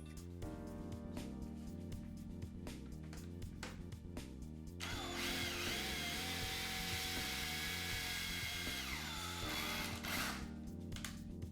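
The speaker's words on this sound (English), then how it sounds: "Using the drill and the adapter, I run the slide to the top of the column." A cordless power drill turns a ball screw to run the Z-axis slide of a Grizzly G0704 mill, whirring continuously in stuttering bursts, then in a long steady stretch before pulsing again, close and mechanical.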